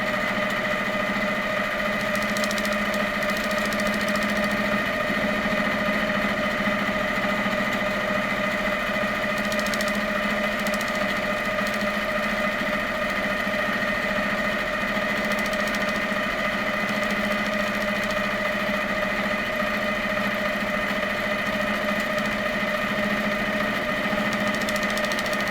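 A longarm quilting machine stitches a quilt in a continuous, steady mechanical hum. The drone is loud and close, holds an even level the whole way through, and carries faint light clicks on top.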